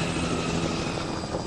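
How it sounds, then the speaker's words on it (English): A news helicopter flies overhead in The Last of Us, its steady, dense rotor and engine roar filling the whole stretch at a constant loudness with no talk. "Is that a news chopper?"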